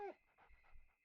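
Brown the dog pants in Rule of Rose, soft rhythmic huffs about three or four in a second, faint and close, following a brief higher whimper-like note at the start.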